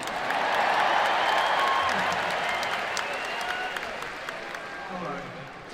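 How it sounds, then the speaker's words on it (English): Steady applause from a concert audience, a dense wash of clapping that swells early and slowly tapers off, with some voices mixed in. "Alright, cheap applause."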